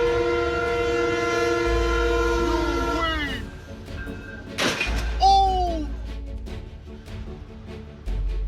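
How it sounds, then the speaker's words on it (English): A train roars past at close range, its horn blaring in long sustained tones that bend in pitch, with a loud rush of wheels and rumble throughout. "suddenly a train roars by so close you could almost touch it"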